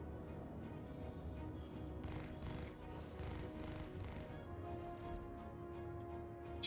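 Reliant Tana spaceship weapons in a video game fire a fast, continuous stream of shots. The bursts stay steady and dense at moderate loudness from start to finish, with no voices.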